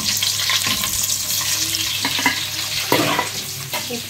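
Onions fry in a pan, with a loud, continuous sizzle close by and occasional scraping thumps as they are stirred.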